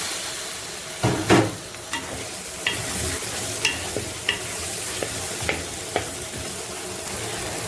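Offal sautéing with tomato, onion and carrot in a pan, a loud steady sizzle at close range broken by repeated scrapes and stirs of a spoon.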